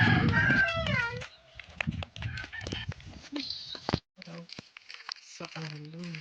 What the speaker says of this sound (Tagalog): Ay, manok ka.